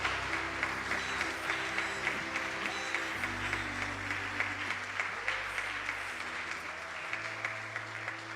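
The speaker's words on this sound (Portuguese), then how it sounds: "Aplaude e glorifica o nome do Senhor" A church congregation applauds, sustained even clapping from many hands filling the space, with a low hum or music tone running underneath.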